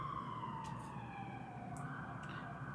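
Distant sirens wail faintly with a slowly falling tone over steady background traffic noise.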